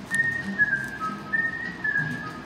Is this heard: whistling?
yes